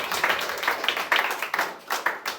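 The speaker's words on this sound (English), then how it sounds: "Clap it up for Danit." A comedy club audience at Asylum NYC claps steadily for the next contestant, a dense, close burst of applause with uneven peaks throughout.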